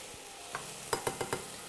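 Vegan fried rice stir-fried in a very hot pan: a steady low sizzle with four or five sharp utensil scrapes and clacks in quick succession, close and alone without talk.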